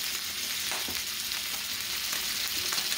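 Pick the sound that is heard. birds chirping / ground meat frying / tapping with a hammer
ground meat frying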